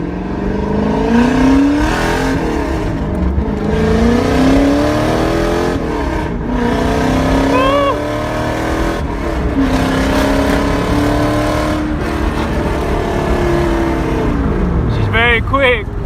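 A Toyota Supra MkII with a swapped 1UZ-FE V8 drives on the road, its engine droning and rising and falling through revs continuously and loudly, with someone talking over it throughout.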